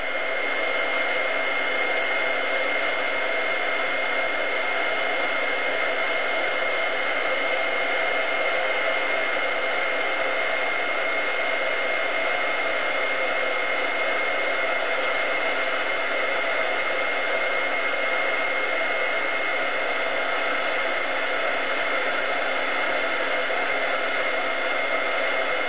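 A heat tool blows hot air over embossing powder on an acrylic craft piece to melt it. The whooshing, hair-dryer-like roar is loud and steady, with no pause for the whole stretch and no talk.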